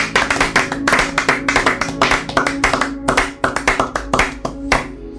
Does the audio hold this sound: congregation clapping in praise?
yes